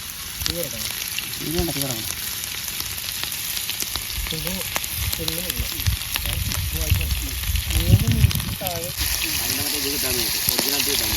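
Prawns frying in hot oil for pickle produce a steady, close sizzle with light bubbling and crackle, running continuously under a person talking.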